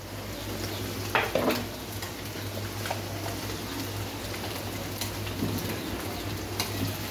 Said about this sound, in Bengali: আমি পেঁয়াজটাকে এতে দিয়ে পেঁয়াজটা দিয়ে লাল লাল করে আমি ভেজে নেব।